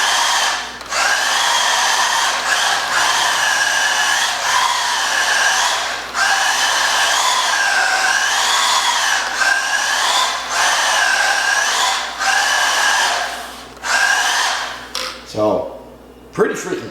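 A small battery-powered all-wheel-drive RC drift truck whines through repeated donuts, its electric motor rising and falling in pitch in a string of loud close bursts with brief gaps, ending in a short clatter.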